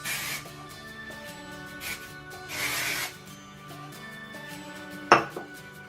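Hair product such as hairspray sprays in short hissing bursts while hair is being curled into beachy waves, two or three puffs at close range, then a sharp clink near the end.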